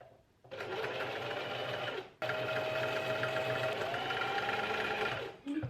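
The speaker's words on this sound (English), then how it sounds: "we always start the seam with back and forth to secure the seam." A domestic sewing machine runs steadily while stitching a fabric seam back and forth on an easy DIY top, a close continuous whirring hum with a brief pause near two seconds and a stop at the end.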